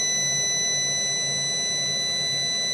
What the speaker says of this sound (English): There's the low voltage alarm.